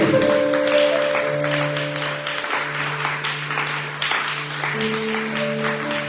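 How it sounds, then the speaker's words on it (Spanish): A church congregation applauds in moderate, uneven clapping while sustained organ or keyboard tones sound beneath it. "Dele un aplauso al Señor"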